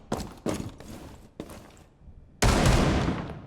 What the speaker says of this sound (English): So that was Maestro with his AA-12 shotgun.